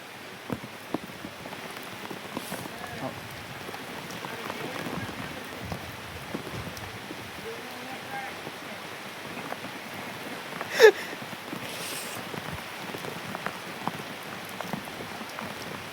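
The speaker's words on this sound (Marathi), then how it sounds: "पाऊस" Steady, heavy rain pattering on surfaces all around, with scattered droplet taps and one brief louder knock partway through.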